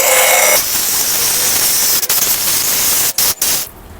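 A portable battery pressure washer sprays water to clean a dirty motorcycle, making a loud, steady hiss up close that briefly cuts out twice near the end before stopping.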